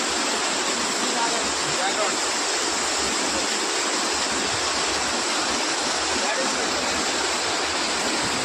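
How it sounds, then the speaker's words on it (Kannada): Vibhuti waterfall roaring at close range from its top edge, a dense, steady rush of falling water that fills the whole clip without pause. "ಎಲ್ಲಿಂದ ನೀರು ಬೀಳ್ತಾ ಇದ್ದೋ ಅಲ್ಲಿಗೆ ಸೀದಾ ಬಂದ್ಬಿಟ್ವಿ ಎಡ್ಜಿಗೆ"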